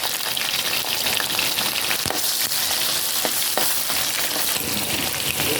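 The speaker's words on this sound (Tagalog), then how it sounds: "kikisa ko na po yung sibuyas" Onions sauté for pork adobo with potatoes, giving a loud, unbroken sizzle and hiss from the pan, with a few faint stirring knocks and no voices.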